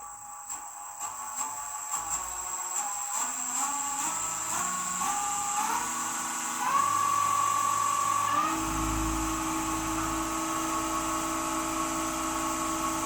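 A Nova Galaxi DVR 1644 wood lathe running at speed, its motor whine stepping up in pitch in stages as it climbs to about 1616 RPM, holding a steady close tone with no talking.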